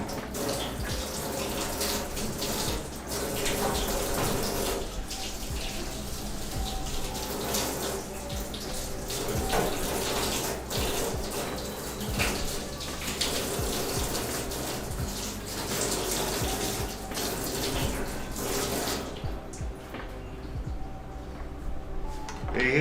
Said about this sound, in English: give these onions a quick little wash. Give the green pepper a wash.